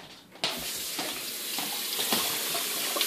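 Tap water runs steadily into a sink while a cleaned grouse is washed. The water starts abruptly and stays loud and close with a broad, splashy hiss and no talking.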